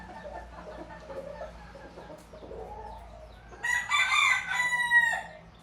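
A rooster crows loudly and fairly close, a single drawn-out call following a few seconds of quieter background sounds.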